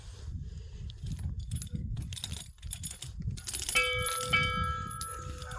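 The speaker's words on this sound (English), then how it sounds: "I got the pleasure of ringing the Killdrummy Kirk bell" The old Kildrummy Kirk church bell rings out late with a clear, sustained metallic tone that hangs steadily, faint and distant over rustling and handling noise from nearby movement.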